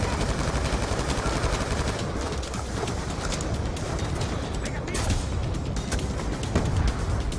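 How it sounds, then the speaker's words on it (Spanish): Rapid gunfire rattles in the Call of Duty Black Ops 2 campaign, a dense, loud stream of overlapping shots and bursts running continuously with no pauses. "Y le damos un disparo a este también."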